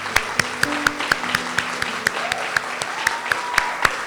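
A church congregation claps steadily in a close, reverberant room, with a regular rhythmic beat running through the applause and sustained musical tones underneath.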